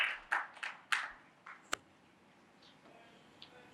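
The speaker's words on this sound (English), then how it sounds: "So a big round of applause for Mr. Avnish" A handful of sharp, scattered hand claps from a small audience at a retail-industry conference session in Pune, quickly thinning out into a few faint stray claps.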